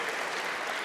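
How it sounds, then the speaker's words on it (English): Audience applause at a live political talk event in Australia: a dense, steady wash of clapping from a crowd, filling the whole short moment at an even level. "A big round of applause for Dave."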